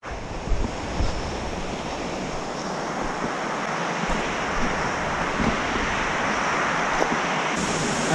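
Souter Falls, a three-tier waterfall in Savage Gulf, gives a steady broadband rush of falling water, continuous and fairly even with some wind buffeting on the microphone and no voices.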